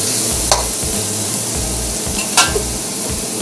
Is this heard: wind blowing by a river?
no